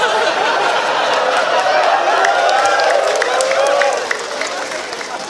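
An audience at an Islamic religious lecture claps and murmurs with scattered laughter, a loud, steady crowd sound that drops off near the end.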